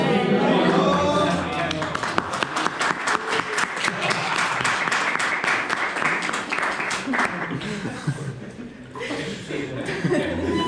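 A class group applauds with a long, steady run of hand claps, loud and close, mixed with chuckles and voices, fading toward the end as talk takes over.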